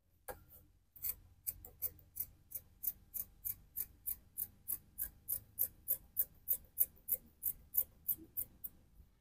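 Scissors snip through fabric while a blouse is cut out, a long run of around twenty crisp, evenly spaced cuts in quick rhythm, close and clear with no voices over them.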